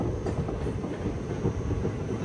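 A train rumbles through Begumpet railway station in Hyderabad, a steady low rolling roar with faint rhythmic wheel clatter heard close by, no voices.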